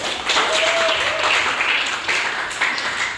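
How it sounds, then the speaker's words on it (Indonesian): A group applauds in a classroom biology lesson, with dense, even clapping held for about three seconds at a fairly loud, close level. "Oke, beri aplaus."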